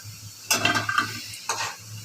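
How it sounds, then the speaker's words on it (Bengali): Bora fritters frying in hot oil give two bursts of sizzling and crackling, the first longer and the second short, over a steady low kitchen hum. "আগে বড়াটা ভেজে নিলাম"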